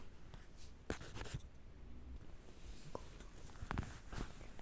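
Pen or pencil writing on paper while physics notes are drawn up, giving faint scratchy strokes and a few sharp taps at irregular intervals over a quiet, hissy background.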